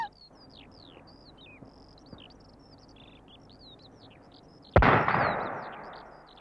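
Birds chirp and trill softly until a single loud, sharp rifle shot at a roe deer cracks out near the end and rings off in a fading echo.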